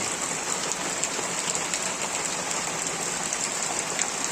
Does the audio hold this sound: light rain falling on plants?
yes